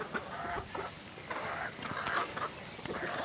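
A lone hen in a chicken run gives repeated close, soft clucks in an irregular rhythm.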